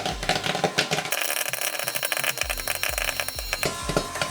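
Rapid, irregular popcorn popping bursts in a pot, dense crackling pops scattered throughout with a brief lull, then resuming at a steady clip.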